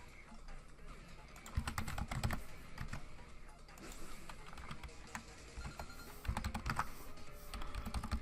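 Computer keyboard typing in quick irregular bursts of clicks through the clip, at moderate close range, while setting up a damage calculation for a competitive Pokémon match.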